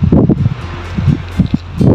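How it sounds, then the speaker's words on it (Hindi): Strong wind gusts buffet the microphone on a hilltop near Kuchaman City, Rajasthan, producing a loud, continuous low rumble with uneven surges and no speech. "बहुत शानदार हवा चल रही है"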